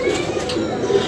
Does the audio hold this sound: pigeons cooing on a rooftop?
yes